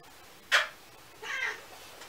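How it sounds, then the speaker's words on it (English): A cat meows twice, a short sharp cry followed a moment later by a longer, drawn-out meow, close by in a quiet room. "My cat Moon is here."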